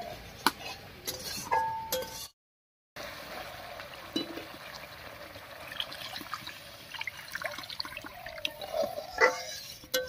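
Water is poured into a pan of well-fried spice paste to make the gravy for a vegetarian curry of jackfruit-seed fritters, with light trickling and a few metal clinks of utensils against the pan, close and fairly quiet, without talk.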